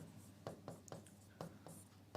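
Chalk writing a note on a classroom board, a faint series of short scratchy strokes in an uneven rhythm, about six taps and scrapes close by.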